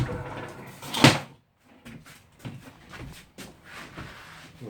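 A wooden shed door on a tiny home build is shoved shut with one loud thud, followed by softer knocks, rattles and shuffling as it settles into the frame.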